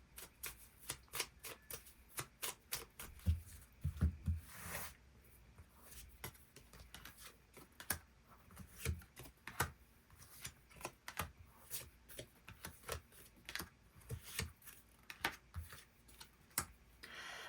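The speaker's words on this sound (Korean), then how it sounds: "카드 뽑아보도록 하겠습니다." Tarot cards are shuffled and drawn by hand, giving soft rapid riffles and crisp slaps and taps in irregular clusters, close and quiet, with no talk.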